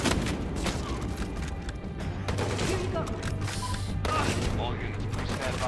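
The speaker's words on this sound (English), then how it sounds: "Oh, that's a grenade." Gunfire and a grenade blast rumble through a Battlefield Hardline firefight, with bursts of shots and a heavy boom under continuous combat noise and someone talking.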